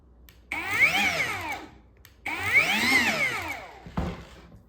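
Kobalt 24V cordless grease gun whirring in two sustained motor bursts with pauses between, loud and close, followed by a brief clunk.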